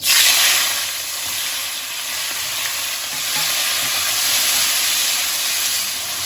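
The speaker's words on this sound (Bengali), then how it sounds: "এবার আমি চিংড়ি মাছগুলো দিয়ে দিচ্ছি নুন হলুদ মাখা" Prawns coated in salt and turmeric sizzle loudly in hot, smoking oil, a dense steady hiss that flares at the drop and holds close and continuous throughout, with no talking.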